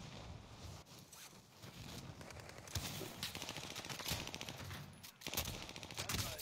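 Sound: gunfire in a video game

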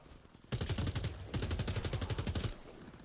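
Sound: gunfire in the video game Warface

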